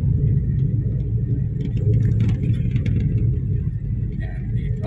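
A Suzuki S-Presso engine strains uphill in second gear on a steep road, a loud steady low rumble with a laboring drone, heard from inside the car.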